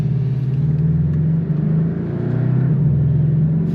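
A Porsche drives slowly around the slippery Pau Arnos racing circuit, heard as a close, steady engine drone and rumble from inside the car, with a brief lift in revs partway through and no talk.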